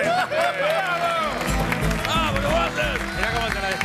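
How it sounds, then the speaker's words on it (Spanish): A studio audience applauds on an Argentine television show, steady crowd clapping under music and a voice talking throughout. "Un aplauso de esta gente."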